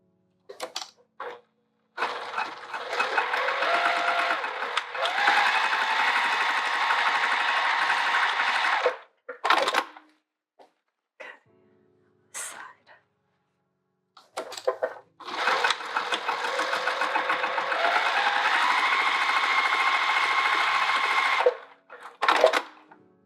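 A sewing machine stitches up the sides of a bucket tote bag in two long continuous runs, each with brief stop-start bursts around it, fairly close and steady with no talk.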